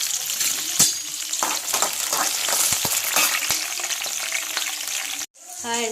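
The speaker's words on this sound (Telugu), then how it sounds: "అవి వేగుతూ ఉంటాయి." Green chillies frying in hot oil in a pan for brinjal chutney, a loud continuous sizzle with scattered stirring knocks before a brief cut near the end.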